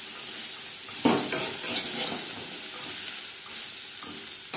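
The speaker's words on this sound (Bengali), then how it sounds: "সজনে ডাঁটা খুব বেশি ভাজবার প্রয়োজন নেই। 3-4 মিনিট নাড়াচাড়া করে দেব।" Moringa drumsticks and bitter gourd stir-fry in a pan, giving a steady close sizzle with a few spatula scrapes and shuffles over it, and no one speaking.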